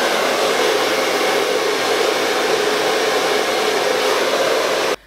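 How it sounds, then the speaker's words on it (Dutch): A hair dryer blows steadily and loudly for about five seconds while hair is blow-dried with a round brush, a constant airy roar that cuts off abruptly at the end. "Je zorgt voor een goede föhn en je gaat het niet op deze manier föhnen."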